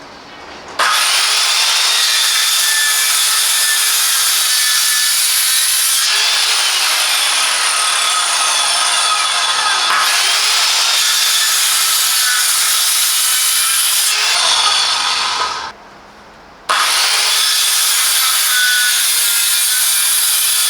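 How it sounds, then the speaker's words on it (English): A Hychika 1300W electric circular saw cuts through wood, its loud, steady whine running almost continuously with a short break before resuming close by. "The Hychika circular saw is an excellent choice for those seeking a reliable, user-friendly and efficient cutting tool."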